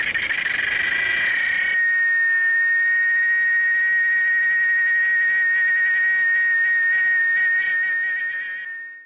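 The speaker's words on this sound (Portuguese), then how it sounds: "Essa musculatura é responsável por reproduzir sons bastante agudos, feitos pelo macho a fim de atrair as fêmeas para a cópula." Male insect producing a high-pitched mating call with its abdominal muscles: a loud, sustained, shrill buzzing tone, close and steady for several seconds, starting with a rough burst and then holding evenly before fading at the end.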